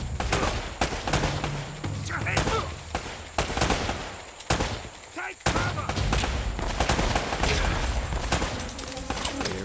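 Gunfire in the video game Uncharted: Drake's Fortune on PS4: loud bursts of rapid shots crack out again and again, some in quick automatic strings and others in short volleys, filling the whole stretch.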